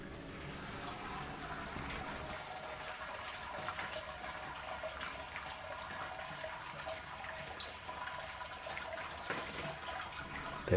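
Water drains and trickles steadily from a lifted malt pipe of a home brewing system during an IPA brew day, a continuous soft splashing close by with faint drips.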